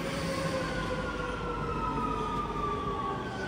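Metro train at a station in Rome, a steady loud rumble of wheels and motor with faint high squealing tones drifting through, continuous and close, with no voices.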